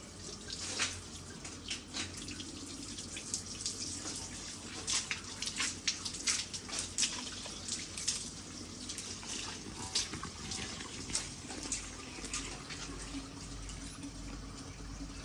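Water runs from a tap in a steady splashing stream, with drips and clatters at close range and no talking.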